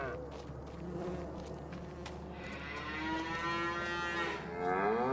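Cattle lowing in the Farming Simulator 25 game on the Chipping Norton farm map, several long drawn-out moos rising over a steady low farm background hum, fairly close and clear, with no talking.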